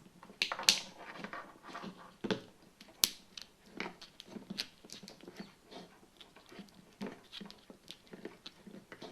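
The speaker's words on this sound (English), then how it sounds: "cut it to the correct length and then slide it over the bundle" Split convoluted plastic tubing for a wire bundle being cut to length, a series of sharp snips and crackling clicks, close and fairly quiet, irregular in rhythm.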